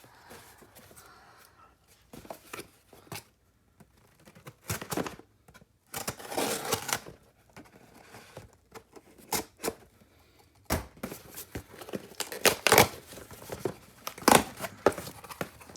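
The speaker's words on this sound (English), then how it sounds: "let me grab my scissors and let's start opening some boxes." Bursts of cutting, tearing and crinkling as cardboard boxes are opened with scissors, in irregular spurts with quiet pauses between.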